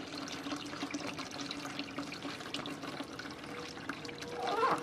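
Water circulating in a homemade pond biofilter driven by a pump, a steady close trickling and swirling with a low hum under it and a brief splash near the end.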